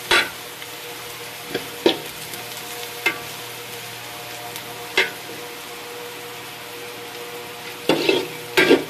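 Spices frying in a pan for Eid morning khichuri, with a steady sizzle and scattered sharp scrapes and taps of a stirring spoon against the pan, clustering near the end.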